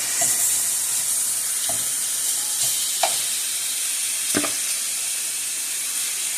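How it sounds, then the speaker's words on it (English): Turkey wings searing in a hot pan, giving a steady close sizzle with a few sharp crackles and pops scattered through it. "Now once I sear these turkey wings that have been pre-washed"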